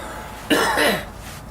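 A single short, harsh cough sounds close by against a quiet background.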